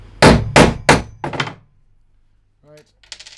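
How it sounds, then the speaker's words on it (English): A hammer strikes a setting tool to drive turrets into a board: three loud, evenly spaced metallic bangs, then a quicker softer double knock, followed by near silence and a brief voice at the end. "that's your turret all installed with a hammer"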